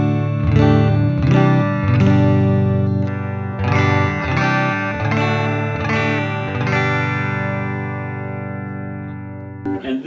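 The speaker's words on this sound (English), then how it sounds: "today we have a standard Strat and going into a Princeton reverb amp" Clean Stratocaster electric guitar chords rung out through a Princeton Reverb amp, several strums with natural decay and a touch of reverb, warm and unhurried, ending on a sustained chord.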